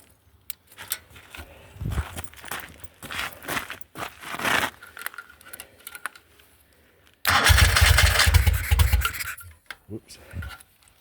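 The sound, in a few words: Moto Guzzi Eldorado motorcycle engine with Brooklands silencers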